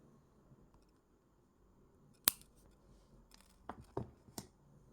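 Wire being snipped for a wire wrap pendant, a few sharp, close clicks of small cutters, one loud snap followed by several quieter clips against a near-silent background.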